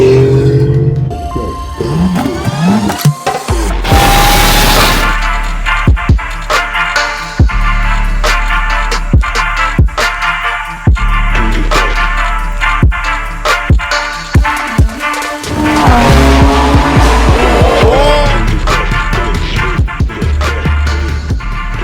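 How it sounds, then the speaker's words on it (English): A restored Lexus LX470 SUV is driven, its engine and road noise steady and close from inside the cabin, with some louder rising passages and clicking sounds throughout. "We are here in my LX right now, headed out for a Sunday drive."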